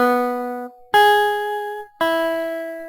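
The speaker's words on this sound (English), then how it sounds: "Here I'm playing with an electric guitar." Electric guitar picking three single sustained notes on the first string, each struck cleanly and left ringing before the next, played alone with no talking.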